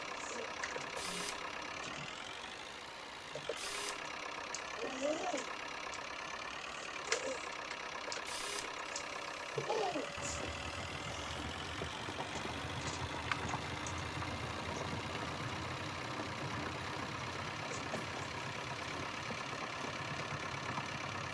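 A farm tractor engine runs steadily at a constant pitch, fairly quiet and mid-distance. Around halfway through it thickens into a louder, rougher drone that continues to the end.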